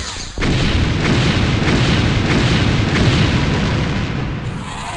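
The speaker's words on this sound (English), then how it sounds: "Explosions." A loud, continuous rumble of explosions from the strategy video game XCOM: UFO Defense kicks in abruptly after a short quiet moment and holds steady and dense, with no talking over it.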